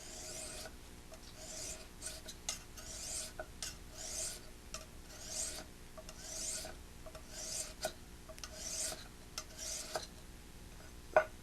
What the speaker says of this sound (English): So I'm going to always lift the file. I'm never going to slide it back and forth.